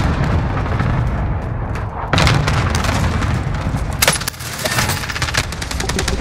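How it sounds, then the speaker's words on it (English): Cluster strike explosions in a Call of Duty match, a barrage of heavy booms and sharp blasts overlapping in quick succession, loud and close, with bursts of gunfire mixed in and no talking. "Enemy cluster strike."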